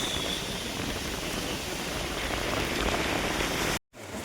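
Heavy rain pouring at the Unakoti gate in Tripura, a dense, loud, continuous hiss of rain on surfaces that cuts off abruptly near the end.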